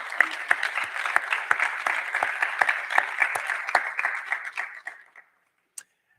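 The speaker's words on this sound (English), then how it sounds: "please provide a round of applause for this amazing group" Audience applause for a conference team at an awards ceremony, dense clapping from a crowd that holds steady for about five seconds, then thins and stops, with one last lone clap afterward.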